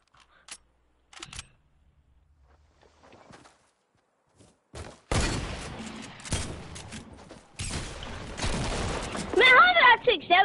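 Gunfire in a video game comes as loud, dense bursts of rapid shots in the second half, with sparse, softer noises and faint sounds before them.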